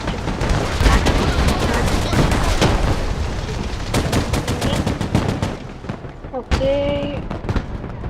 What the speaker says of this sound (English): Heavy weapons team is under fire.